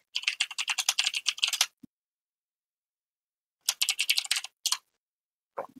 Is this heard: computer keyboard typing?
yes